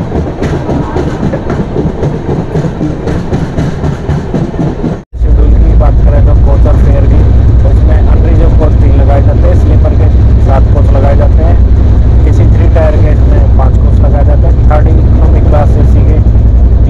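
A weekly Shalimar to Visakhapatnam Superfast Express, train 22853, pulls out of Vizianagaram station, starting with a rumbling clatter and then a loud, steady roar with rhythmic wheel clicks after a brief cut, heard up close with voices.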